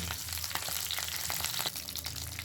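Hot oil sizzles and crackles steadily as chili fries in a pan with cumin, a dense, continuous spitting hiss with occasional sharper pops, no voices.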